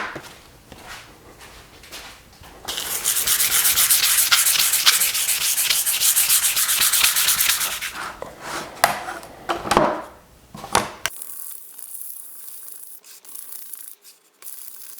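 Sandpaper scuffs the back of a scratch-built Star Wars wall art piece in close, loud rasping strokes, with a long sustained stretch of sanding followed by shorter rubbing passes and scattered handling noises.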